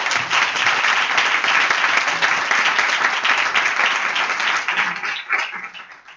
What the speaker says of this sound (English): I would like you to join me in thanking them with an applause.